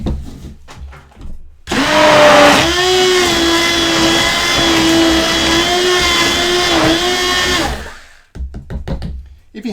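A hand blender (bar mix) whirs loudly at a steady pitch for about six seconds while mixing psyllium husk slime, with a slight strain in the motor. Quieter handling sounds come before and after.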